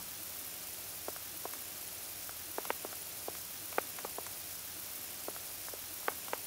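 A shower runs in Animal Crossing, a steady hiss of falling water with faint scattered drips and taps through it, with no talk.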